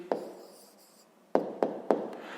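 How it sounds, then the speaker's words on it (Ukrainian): Handwriting an answer to a fifth-grade maths exercise: one sharp tap, a pause, then three quick strokes in a row, close and fairly quiet, with no one talking. "Пишемо тоді відповідь."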